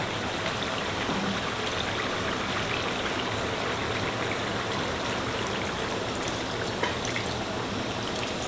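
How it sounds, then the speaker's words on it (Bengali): Water goes into a pot of beef being braised with jackfruit, making a steady, continuous rushing trickle at moderate volume throughout, with no talking. "আমি এবার এতে সামান্য পানি অ্যাড করব"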